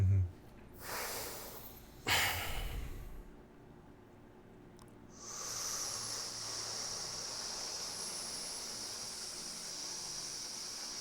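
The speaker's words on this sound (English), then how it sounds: "And now I'm just breathing loud that you can hear it" Loud human breathing with strong inhalations: two sharp, close breath bursts in the first three seconds, then a steady, softer airy hiss of breathing that continues to the end. No talking.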